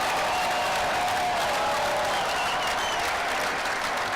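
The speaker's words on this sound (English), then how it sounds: "Let's give them a round of applause." Dense, sustained applause from a large crowd at the Pittsburgh Penguins' 2016 Stanley Cup parade, loud and steady without a pause.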